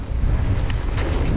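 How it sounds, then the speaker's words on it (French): Gusty wind buffets the microphone at a mountain bike park, a close, rumbling roar that surges and dips over a brief moment with no voices. "Oh il y a du vent, c'est mort."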